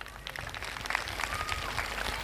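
Audience applause for para-archer Shital Devi as she receives the Arjuna Award, a steady wash of distant clapping with a faint hum of crowd underneath and no clear voices.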